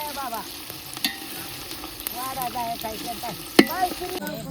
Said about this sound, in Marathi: कोथमीर चांगली तळू द्या